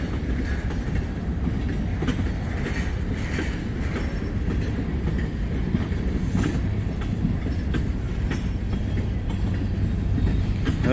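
A long freight train of around 660 axles rolls past nearby, heading into a rail yard, with a continuous rumbling roar and rhythmic wheel clatter that holds steady for the whole stretch.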